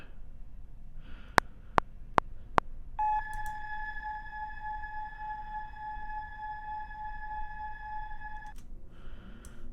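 Four sharp dialing beeps in quick succession, then a long steady tone ringing for several seconds before a brief pause and another short tone.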